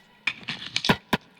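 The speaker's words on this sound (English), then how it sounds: "So now if we are looking at the snare track here, which usually sounds like this" Snare drum track on an Elektron Digitakt plays a few short, crisp hits in quick succession, close and dry, with an uneven rhythm over about a second.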